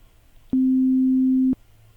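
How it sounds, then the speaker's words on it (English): A pure sine-wave tone generated in MATLAB sounds alone for one second, steady and loud, starting and stopping abruptly with a click at each edge against a faint background. "you can see that this is sine wave. So let's see how it sounds."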